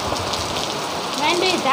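Heavy monsoon rain pours down steadily in a village in Gir, a dense continuous hiss of drops hitting surfaces close by, loud and unbroken for the whole stretch.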